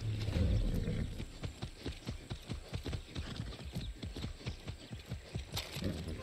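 Steady clip-clop of horse hooves in a quick, even rhythm, close by, with a low rumble at the start and faint clatter in the background, in the video game Far Cry 6.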